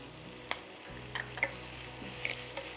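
Chicken kabsa ingredients with red pepper are stirred in a pan. A few scattered scrapes and taps of the utensil sound over a faint, low sizzle, quiet and close, with no voices.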